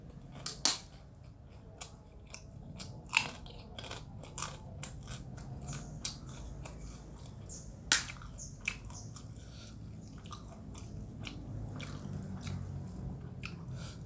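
Someone eats kerupuk crackers up close, giving sharp, irregular crunches and bites spaced a second or two apart over a quiet background.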